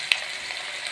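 Onions frying in hot oil with mustard seeds in a pan, a steady close sizzle with one brief sharp crackle near the start, no talking.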